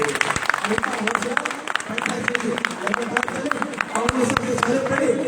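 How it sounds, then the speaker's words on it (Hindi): Crowd at a protest rally at Gandhi Chowk applauding, a busy mass of clapping with scattered sharper claps and background voices and chatter running through it. "मेरे योद्धाओं को तालियां बजा देंगे"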